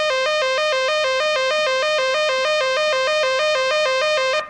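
Synthesizer tone modulated by a square-wave LFO, jumping abruptly between two pitches in an even, regular alternation like a two-note trill, loud and continuous with no voices.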